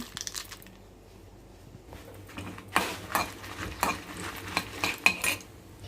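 Dried red chillies and fenugreek seeds fry lightly in oil in a pan, with scraping and stirring clinks that pick up partway through, a soft sizzle running underneath; no voices.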